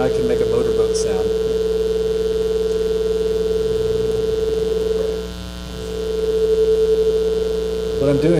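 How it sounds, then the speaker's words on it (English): A steady electronic throbbing hum from a synthesized oscillator drones for the whole stretch, dipping briefly in the middle before returning, like a motorboat engine. "I can make a motorboat sound."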